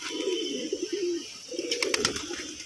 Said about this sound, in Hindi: ये हमारा मंद्रासी कबूतर है